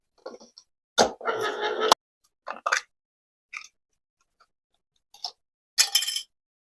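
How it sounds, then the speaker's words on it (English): A food can is opened in a kitchen with a series of separate metallic clicks, scrapes and pops spread over several seconds, with near, crisp bursts between quiet gaps. "First I need to open this can."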